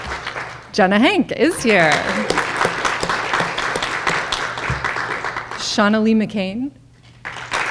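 An audience at an honor society induction ceremony keeps up continuous clapping for graduating seniors while a voice calls out names over it.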